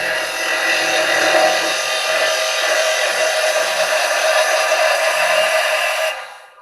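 A carbide chisel cuts wood on a spinning lathe, giving a steady, loud, broadband hiss and whir that holds unbroken for about six seconds and then stops abruptly, with no talking.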